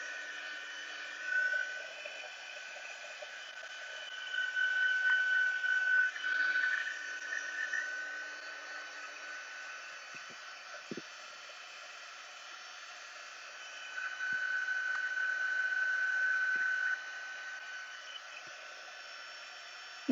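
A heat tool blows steady broadband air to dry alcohol ink on a clear window sheet, running in two long bursts with quiet gaps and faint handling clicks between.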